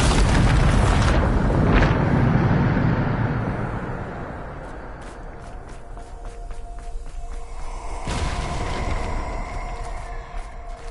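A Bombarda explosion spell in a Harry Potter video game bursts with a loud, deep boom that rumbles and fades over a few seconds, followed by scattered clicks and a second softer burst.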